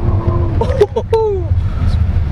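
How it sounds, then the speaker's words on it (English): Brief chirping tire squeals from a 2024 Lynk & Co 01 PHEV, a powerful plug-in hybrid crossover, spinning its wheels on a test route. The squeals rise over steady road and engine rumble, with a voice nearby. "wow there's a lot of wheel spin there"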